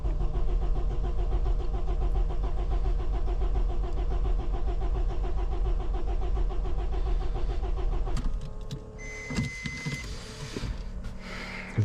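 A car engine runs steadily with a rough, pulsing idle after a remap and firmware update on ethanol fuel, then drops away as it shuts off, leaving clicks and small mechanical noises.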